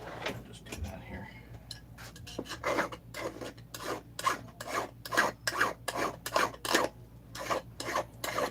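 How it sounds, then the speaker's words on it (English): Hand file deburring metal Husqvarna 266 chainsaw crankcase parts, a fast series of rasping strokes in a steady rhythm, close and moderately quiet. "Sometimes things get stuck, you gotta deburr them."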